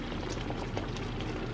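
Strawberry vanilla jam bubbling in a pot on the stove, a dense, continuous thick simmer with constant close bubbling and no voices.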